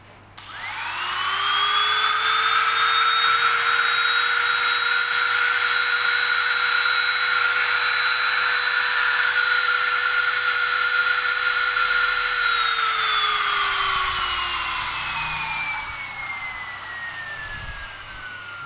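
A mini drill press spins up under test, its motor whine rising quickly to a steady high hum that holds for about twelve seconds before winding down as the motor coasts to a stop.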